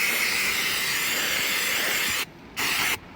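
Brake cleaner sprays onto a new greased brake disc on a Citroen C1, a loud close continuous hiss that stops briefly, then comes back in a second short burst.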